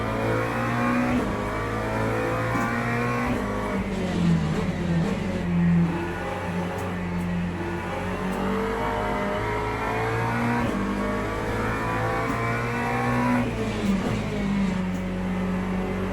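GT3 race cars in the rain at Monza in the Le Mans Ultimate game: engines rev and climb through gears steadily, with repeated shifts and a continuous loud drone, no talk.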